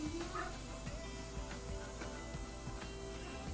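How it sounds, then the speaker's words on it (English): Dogs barking off at a distance in a workshop while someone airbrushes a battlefield cross, a few faint, scattered barks over a steady hiss of background noise. "They start barking right when you stop looking"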